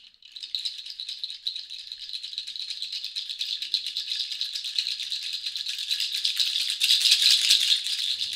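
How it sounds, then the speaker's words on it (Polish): Dried seeds shaken together like an angklung give a continuous dense rattle, steady and fairly bright throughout, swelling slightly louder toward the end, with no voices. "nasionka zaczęły wydawać niesamowity dźwięk"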